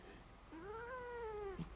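A cat lets out a single long, drawn-out meow that rises and then slowly falls, close and fairly clear, in a quiet room, followed by a small soft bump.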